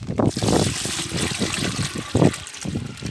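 Excess rainwater splashes and trickles in short gushes as it is tipped out of rooftop garden plant pots, with brief pauses between pours and some faint background noise.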